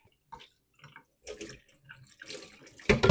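Apple cider trickling from a cider machine's spout into a cup, starting as faint sporadic drips and splashes and building into a louder pouring gush at the end.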